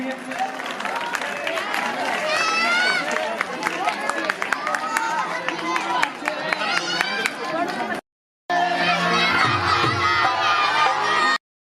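A crowd at a Bhagwan Valmiki temple jagran in Jundla, Karnal, claps and cheers to welcome the local MLA. The dense, busy mix of voices and clapping runs steadily, drops out briefly near the end, then resumes.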